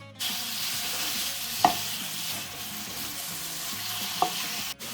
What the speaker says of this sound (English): now what I'm going to do is I'm going to saute them for about 20 minutes